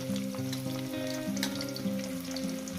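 Cauliflower and potato frying in a pan make a continuous hiss and crackle, heard close and fairly even under a steady tonal music bed, with no voices.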